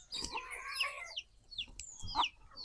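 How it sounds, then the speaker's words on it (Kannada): A small group of five native country chicks on a farm, running indoors together, give bright, high peeping chirps and soft clucks in quick scattered bursts, close by and fairly loud. "ಈ ಒಂದು 5 ಕೋಳಿ ಮರಿಗಳು ಎಲ್ಲ ಒಟ್ಟಿಗೆಲ್ಲ ಹೋಗ್ತೇವೆ ಒಳಗಡೆ"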